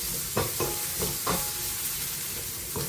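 Bacon and chopped onions frying in a pan, a steady soft sizzle with a few scraping stirs of a utensil against the pan, close and fairly quiet, with no talking.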